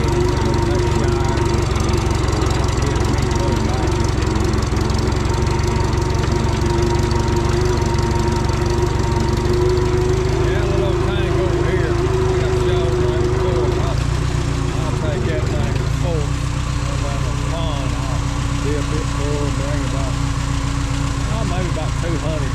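A tractor engine runs steadily in a garden, a constant low mechanical drone that stays loud throughout, shifting slightly in pitch partway through, with someone talking over it.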